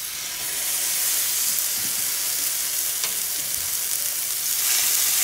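Thyme and four cloves of garlic sizzle loudly in a very hot pan alongside scored steak, a dense steady frying hiss with a few faint clinks and no voices.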